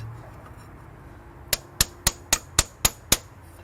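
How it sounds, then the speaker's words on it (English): A hammer strikes a small block Ford engine in an old Ford F250 truck seven times in a steady, evenly spaced rhythm, each blow sharp, metallic and close, with no talking. "Could always get the hammer out."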